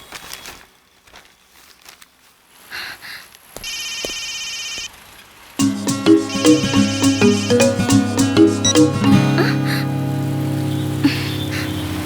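A mobile phone ringtone starts after a quiet stretch with a short electronic buzz, then plays a loud, bright melodic tune of repeated plucked notes that continues to the end.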